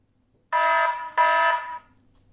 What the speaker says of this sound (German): gibt die Außenstation bei der Inbetriebnahme einen kurzen Alarmton von sich.